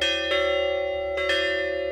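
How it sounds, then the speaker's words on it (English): Church bells ring at St. Edward Catholic Church, a loud, sustained bell tone with two fresh strikes about a second apart over the lingering resonance, with no voices. "The bells toll for joy at St. Edward Church."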